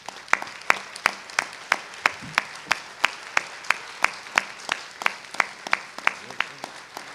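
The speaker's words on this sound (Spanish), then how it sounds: "yo quisiera que le diéramos todos un calurosísimo aplauso de vida a Olga Dragne" Audience applause at a political forum, sounding as sharp, evenly spaced claps of moderate loudness that keep a regular rhythm throughout, with no talk over them.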